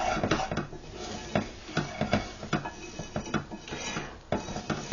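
Food sautéing gently over low heat in a pot, with a spoon repeatedly scraping and knocking against the pot sides and bottom under a faint sizzle, close and uneven, no voices.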